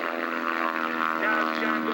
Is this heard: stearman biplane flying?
yes